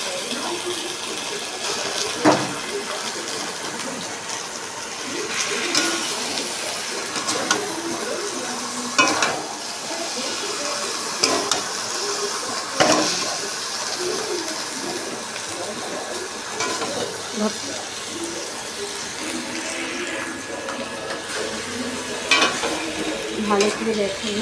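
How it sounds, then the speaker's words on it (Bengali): Meat cooking in a pan with spice paste, a steady broadband sizzle running throughout with scraping stir strokes and occasional clatters, close and moderately loud, with no talking. "এখানে আমি মাংসটা দিয়ে দিচ্ছি। মাংসটা দিয়ে ভালো করে আমি কষিয়ে নেব।"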